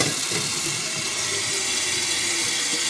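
Tap water runs steadily from a faucet into a kettle, a loud continuous splashing rush without pause and no talk over it.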